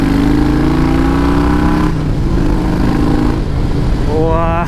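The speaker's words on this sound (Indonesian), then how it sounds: "Coba kita gas yuk." A 2007 Harley-Davidson motorcycle engine is revved up close, its loud, rumbling idle swelling into rising throttle blips near the end, with a voice briefly audible over the engine.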